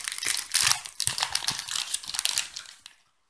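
A crinkly plastic toy package is torn open up close, giving about three seconds of dense crackling and rustling that stops abruptly.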